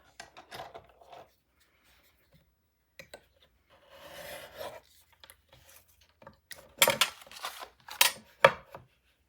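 Corners of paper mini album pages being trimmed with a cutting tool, heard as scattered short scraping and snipping sounds with quiet gaps, then a few louder crisp cuts near the end.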